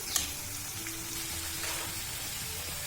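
Faint, steady sizzling of snake gourd with toor dal and finely grated coconut sautéing in a pan, a soft continuous hiss.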